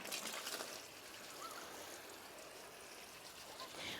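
Garden plants outdoors in Switzerland being watered, a soft continuous trickle and splash of water, fairly faint and steady, with no voices.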